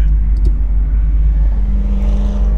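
Idling 1967 Chevy Camaro SS with a 350 V8 and no insulation gives a loud, steady low rumble with a slight rise in revs partway, heard up close and alone.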